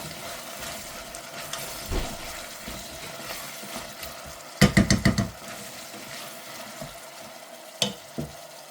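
A ladle stirs a tomato-based sauce of fava beans in a pan, giving a soft background sizzle and a quick run of scraping strokes midway, with a couple more scrapes near the end.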